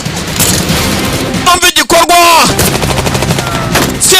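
Gunfire in an action film comes as a quick cluster of sharp, loud bursts in the middle of the clip, set against a dense soundtrack with voices shouting around it.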